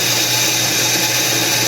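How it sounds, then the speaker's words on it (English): A bandsaw cuts a curve into the bottom of a Canik Rival-S pistol gas pedal, giving a steady, loud, continuous whine and hiss that holds without a break through the short stretch, with no talking. "I think I might actually take the bandsaw and just give it a little curve at the bottom"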